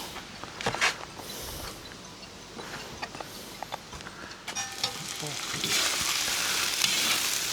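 Onions fry and caramelize in a pan, a steady sizzle punctuated by clicks and scrapes of stirring, growing louder and denser toward the end.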